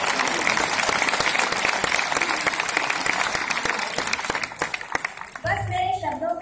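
A poetry recital audience at the Antaragni 2014 kavi sammelan at IIT Kanpur applauds in a dense, steady burst of clapping for about five seconds before it drops away and a voice begins speaking.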